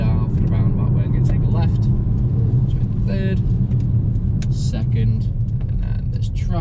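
Mercedes-Benz A-Class A35 AMG 4MATIC, 2.0-litre 302 bhp, slowing and downshifting for a roundabout in traffic, a continuous low engine and road rumble with scattered clicks and ticks and someone talking over it.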